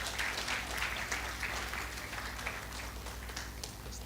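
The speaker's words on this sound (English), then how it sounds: "One clap for him as he arrives" Guests at a medical class finalists' dinner applauding a senior doctor as he arrives, a continuous bed of crowd clapping, steady and somewhat distant, lasting the whole few seconds.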